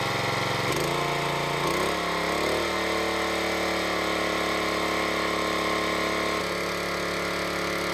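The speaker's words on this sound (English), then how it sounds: "Pull to start. Then adjust the choke and throttle." A pull-start engine driving a fire department hose tester pump starts up and runs at a steady, loud, continuous drone, its pitch shifting briefly as the choke and throttle are adjusted.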